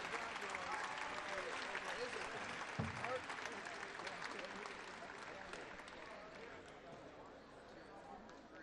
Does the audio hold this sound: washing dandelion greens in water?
no